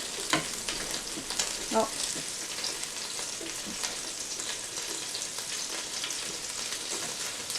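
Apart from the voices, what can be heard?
meatballs sizzling in a Ninja Foodi grill as they are flipped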